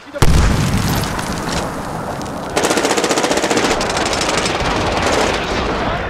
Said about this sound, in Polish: Uwaga, granat!